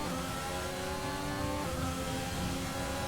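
F1 race car engines from the F1 2020 video game, a continuous high-pitched engine whine with several cars close together, the pitch dipping briefly midway as one shifts, loud and without talk.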